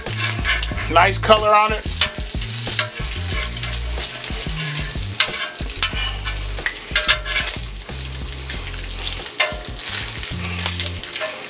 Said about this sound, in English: look at this bacon. We're going to flip it over.